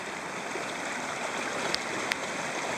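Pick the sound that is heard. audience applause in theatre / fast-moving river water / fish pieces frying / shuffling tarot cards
fast-moving river water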